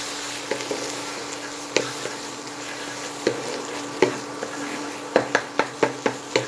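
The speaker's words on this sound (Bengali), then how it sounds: "ডিমটা দিয়ে দিয়েছি, দিয়ে ভালোভাবে এইভাবে নাড়িয়ে দেব।" Beaten, lightly salted egg fries in hot refined oil for street-style egg chowmein while a spatula stirs and scrapes the pan. Sharp clacks land irregularly over a steady sizzle and grow into a quick run of taps toward the end.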